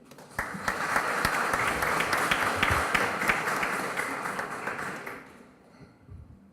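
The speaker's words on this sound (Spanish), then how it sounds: "Lo recibimos con fuerte aplauso." Audience in a formal legal assembly hall applauding to welcome a speaker, a dense burst of clapping lasting about five seconds before quickly dying away.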